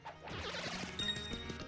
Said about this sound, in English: I'm just gonna start smashing all of you guys with hammer